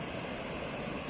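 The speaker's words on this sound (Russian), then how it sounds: "Вот он, водопад Кивач." The Kivach waterfall in Karelia gives off a steady, even roar of falling water, heard from a distance and fairly faint, with no other sounds on top.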